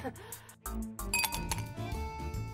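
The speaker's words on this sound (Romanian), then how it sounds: "Acum am apă cu gheață." Ice cubes in a glass of water make bright, repeated clinks and rattles, close and fairly busy, running alongside other clatter and voices on a hot day.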